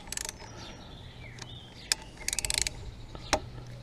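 A 10 mm wrench cracking loose a bolt on a motorbike front brake: quiet, close ratcheting clicks in short bursts, with a quick rattling run in the middle and sharp ticks in between, no talk.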